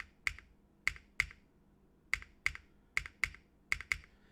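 Keystrokes on a Pegasus prototype mechanical keyboard build, around nine sharp, crisp clacks spaced unevenly over several seconds, close and clear with no talking.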